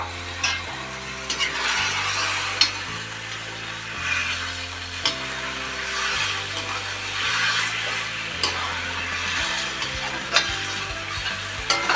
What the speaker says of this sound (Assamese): মছলাটো ঠিক এনেকুৱা ভাজি হওঁতে মই মাংসখিনি বাকি দিছোঁ